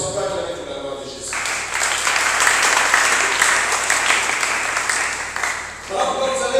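A church congregation applauding for the glory of Jesus, with a loud, sustained wave of clapping and cheering that swells between speech at the start and at the end.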